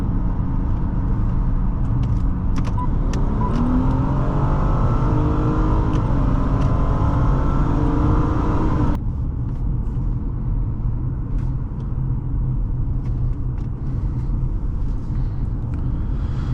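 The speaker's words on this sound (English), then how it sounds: "It just feels very nice to drive this Altima." A 2016 Nissan Altima 3.5 SL drives along with a steady, loud interior engine and road rumble, a rising engine note in the first half, then a quieter, even cabin drone with no talking.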